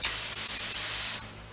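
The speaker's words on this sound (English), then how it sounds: "And when I spray, you see it comes out these on the back, behind it. Lots of water." A truck-mounted carpet cleaning wand sprays water onto carpet, a loud steady hiss lasting just over a second before dropping off.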